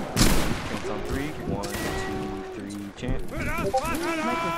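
A line of soldiers fires a musket volley in a Napoleonic-era multiplayer battle game, a loud crackling burst at the start followed by scattered shots, with voice chat and game chatter running over it throughout.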